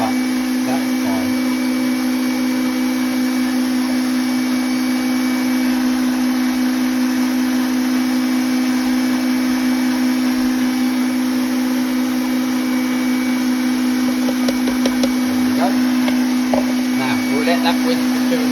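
Electric mixer whisking eggs into sponge batter for a mint and chocolate marble cake, a steady loud motor whine with a constant pitched hum running unbroken throughout.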